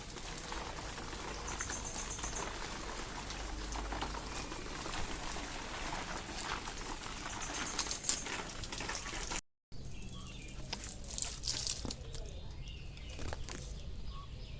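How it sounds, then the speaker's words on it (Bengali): Water runs from a hose pipe onto potted garden plants in summer, a steady broadband splashing and hiss that continues throughout with a short break near the end, birds faintly audible in the background. "এরকম একটা পাইপ দিয়ে পুরো গাছগুলিকে ভিজিয়ে দেবেন"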